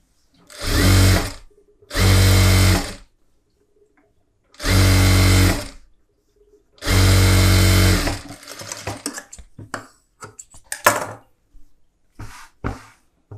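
Sewing machine stitching a blouse lining piece, running in four loud, steady bursts of about a second each, with short pauses between, followed by quieter clicks and handling sounds.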